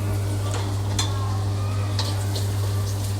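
Asafoetida and chopped dried garlic sizzle in a hot oil tempering for vegetable fried rice, a steady close hiss with a few spoon clinks and scrapes over a constant low hum, no speech.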